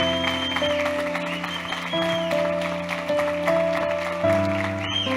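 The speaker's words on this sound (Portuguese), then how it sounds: "Aplauda o Senhor" A church congregation applauds during a Sunday evening worship service, with steady clapping running under sustained organ or keyboard chords.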